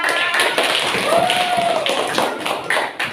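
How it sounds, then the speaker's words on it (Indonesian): A classroom applauds a group presentation: many hands clap in a dense, steady patter of claps close by, continuing evenly throughout. "Kita beri aplaus sama-sama"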